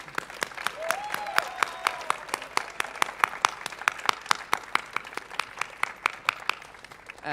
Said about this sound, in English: Give them just yet another applause, please.